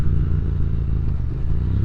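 A motorcycle engine idles roughly after sitting unused for two years with stale gas, fitted with a custom MotoGP-style exhaust; a loud, steady, uneven low rumble runs close by throughout with no pauses.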